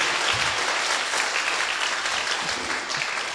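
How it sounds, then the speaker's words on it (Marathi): Loud, sustained applause from an audience welcoming guests at a primary school event in Khadki, dense, even clapping throughout with no speech over it. "आपण एकदा जोरदार टाळ्या वाजवून स्वागत करू"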